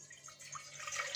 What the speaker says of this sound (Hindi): इसमें 100 ml पानी शामिल कर देंगे।